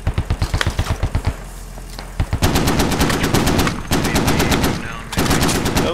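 Heavy automatic fire from a .50 cal machine gun and Mk19 grenade launcher during a Marine anti-armor suppression exercise, loud, close bursts of rapid rhythmic shots, a brief lull, then sustained overlapping firing to the end.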